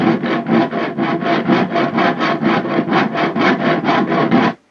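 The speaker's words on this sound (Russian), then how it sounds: "вам нужно распилить доску" A hand saw rasps steadily through a wooden board held in a vise in about eighteen even back-and-forth strokes, loud and close, then stops abruptly.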